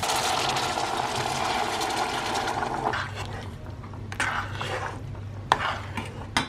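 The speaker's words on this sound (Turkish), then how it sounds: "Biraz da öyle karıştırıp mercimek ve sıcak suyunu ekleyeceğim" Sautéed onion filling for Turkish onion dolma, seasoned with mint, chili flakes and salt, stirred in a pot with a steady sizzle and scraping, easing off into a few sharp utensil clinks near the end; no talking.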